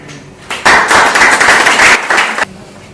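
An audience at a talk in Costa Rica breaks into a short burst of dense, loud clapping that lasts about two seconds, then stops abruptly, leaving quiet room tone.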